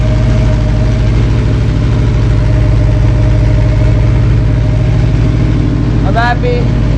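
An Aprilia RSV4 RF V4 sport motorcycle engine idles steadily and loudly up close, a dense low throbbing with a brief higher squeak near the end.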